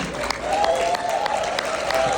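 Audience applause in an event hall following a speech in Dominica, a steady wash of clapping throughout with a faint voice or tone running beneath.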